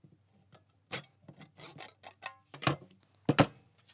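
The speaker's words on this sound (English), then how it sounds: "I'm just going to take a wood chisel and split it down roughly around the right size." A wood chisel splits a wooden hammer wedge down to size, giving a string of short, dry cracking and rasping bursts that come close and irregular, with a few sharper snaps near the end.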